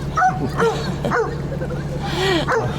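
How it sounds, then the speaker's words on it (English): A dog at a lake eager for a stick to be thrown gives a quick series of short yips and whimpering barks, close and loud, with a person's voice briefly audible. "That dog really wants him to throw that stick, eh?"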